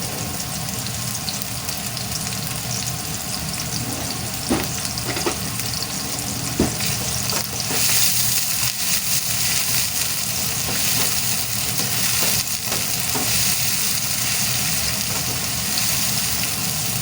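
Onion fries in a pan toward golden, giving a loud, continuous close sizzle that lasts throughout, with occasional faint clicks and stirring scrapes and no voices.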